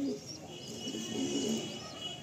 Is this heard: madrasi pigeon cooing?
yes